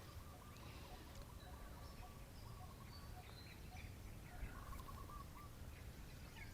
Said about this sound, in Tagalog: Pakinggan niya yung mga huni ng ibon.